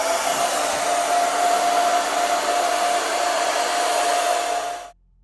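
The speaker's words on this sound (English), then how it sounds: "we've gone around with the hairdryer and diffused some of our veins" A hair dryer blows steadily and loudly on wet metallic epoxy countertop coating for about five seconds with a constant whine, then cuts off abruptly.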